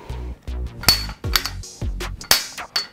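Hammer blows drive a bicycle crown race home on a Birzman tool, about eight sharp metallic strikes roughly every third of a second, close and loud, with some hits ringing brighter and clinking as the race seats fully.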